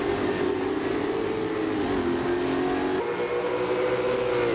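V8 race cars droning up the mountain at Bathurst in a racing simulator game, a steady layered engine hum with slowly shifting pitch and no talk over it.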